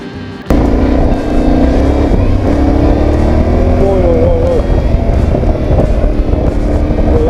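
A Yamaha Ténéré World Raid motorcycle engine drones steadily as it rides, with a rising and falling whine and some wind rush throughout.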